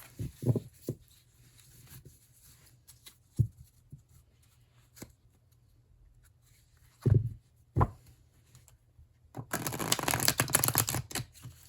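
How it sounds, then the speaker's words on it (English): An Aquarian Tarot deck being shuffled by hand: two or three short papery riffles near the start, scattered soft taps, a couple of sharper bursts around the middle, then a longer dense flurry of card noise at the end, quiet and close. "Let's listen to the way that it shuffles."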